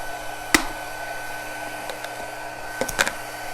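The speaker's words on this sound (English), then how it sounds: "I'm going to bring my heat tool in. I'm going to go ahead and turn it on so it heats up." A heat tool for melting embossing powder runs with a faint, steady blowing whir, broken by a few sharp clicks and knocks from the nearby worktop.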